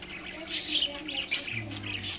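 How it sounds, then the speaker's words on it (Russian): A parrot gives a few high, short chirps and tweets at close range, scattered over a low background hum. "Попугай."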